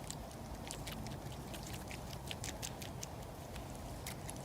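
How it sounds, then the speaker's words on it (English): Water sloshing inside a bottle as it is shaken outdoors in the wilderness, a series of quick, irregular liquid splashes and rattling patters, close and fairly quiet over a faint background hiss. "I'm gonna give it a shake."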